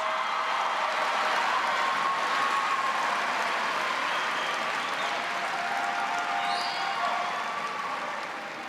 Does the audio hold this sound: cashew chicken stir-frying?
no